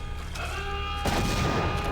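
Heavy explosions in the Deus Ex video game at the Brooklyn Naval Shipyard, a loud rumbling boom rising sharply midway and holding as a dense, continuous roar with no talk.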